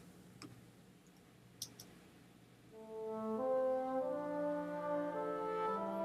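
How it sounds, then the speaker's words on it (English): Woodwinds playing alone, the part that doubles the strings in an epic orchestral track: after a few light ticks, sustained held tones enter and step through changing notes, steady and moderately loud. "And that I double with woodwinds, which by itself sounds like this."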